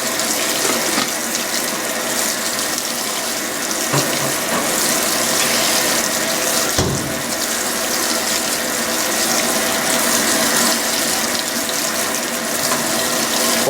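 Steady, loud rush of water pouring into a Fisher & Paykel washing machine as it fills, continuous close gushing with a faint mechanical click partway through and no voices.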